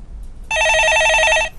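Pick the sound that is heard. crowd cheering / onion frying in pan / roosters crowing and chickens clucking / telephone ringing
telephone ringing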